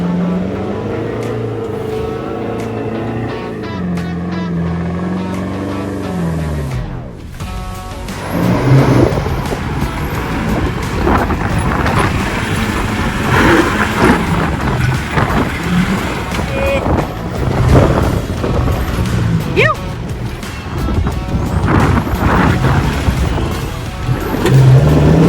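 A 4WD on tyres at about 10 psi claws up a very steep, soft-sand beach exit strewn with large sandstone rocks at Cape York, its engine roaring and revving loudly through wind buffeting after a quieter idling start.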